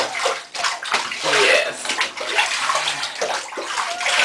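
Water sloshes and splashes steadily in a bathtub as a cat is bathed, with a brief spoken word over the continuous washing sounds.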